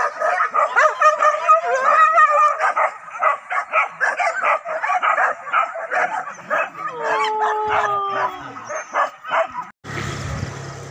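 Pig-hunting dogs in Solok bark, yip and howl in a loud, busy chorus, the yelps turning to drawn-out whimpering whines before a sudden rough noise at the end.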